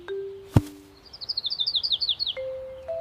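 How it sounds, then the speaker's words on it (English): A small bird chirps in a quick, rising run of about a dozen bright tweets, alone and close, after a sharp ding and a couple of sustained electronic tones from a children's picnic learning game. "This little bird looks hungry."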